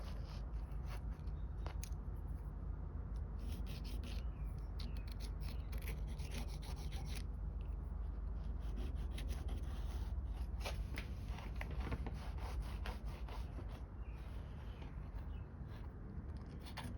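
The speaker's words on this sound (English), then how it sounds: "You can just buy some gasket paper and we're just gonna trace this out." Pencil tracing around a gasket on a sheet of gasket paper while working on a 1974 Toyota Celica, a steady close rubbing and scratching that runs continuously for the whole stretch with no talk.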